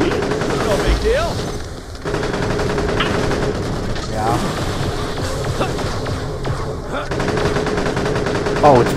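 Gunfire in the video game Borderlands: The Pre-Sequel, rapid automatic bursts and shots mixed with game effects throughout, loud and close, with a voice speaking over them.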